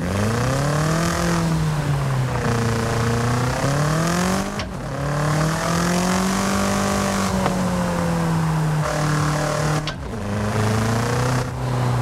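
A BMW M5 V8 engine with all-wheel drive in the video game Forza Horizon 5 revs up and down repeatedly in smooth waves, loud and close, with brief gear shifts and no talking.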